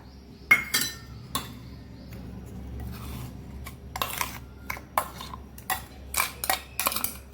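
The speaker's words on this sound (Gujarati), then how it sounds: "આ ચટણી દહીંમાં મિક્સ કરી દેવાની છે।" A spoon clinks and scrapes against a bowl as green chutney is stirred into homemade yogurt. The taps are irregular and close, over a low steady background hum, and nobody speaks.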